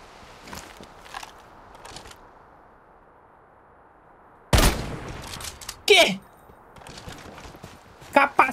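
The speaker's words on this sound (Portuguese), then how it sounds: "Continua atirando, só pra eu ficar ouvindo você atirar pra eu chegar em você." Gunfire in the shooter game Lost Light comes as a few sharp, separated volleys, some close and loud, some distant, while someone talks over quieter stretches.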